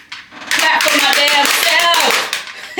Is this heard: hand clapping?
yes